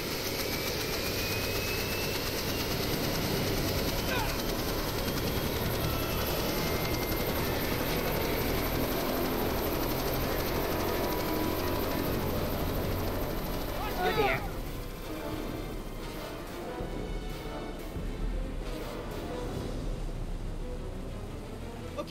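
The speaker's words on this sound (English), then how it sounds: "Set the chopper down." Helicopter in the Jurassic Park video game, a loud continuous rotor and engine drone that fills the whole stretch, with a brief louder swell partway through.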